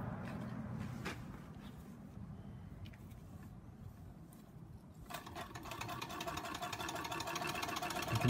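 An 1899 Singer sewing machine stitches at a steady pace, its continuous mechanical whirr and rapid clatter growing louder and brighter in the second half, heard alone and fairly close.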